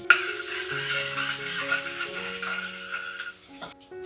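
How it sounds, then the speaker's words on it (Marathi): Garlic frying in hot oil in a heated kadhai, a steady close sizzle with light stirring and scraping, with no talk over it. "कढाई गरम झाल्यावरती तेल टाकलेलं आहे आणि मग त्यानंतर लसूण टाकलेलं आहे"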